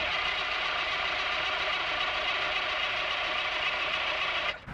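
A Ford 7.3L diesel engine with glow plug trouble cranks and runs rough on a chilly morning in the 40s, a loud steady churning rumble that cuts off abruptly at the end, with no talk.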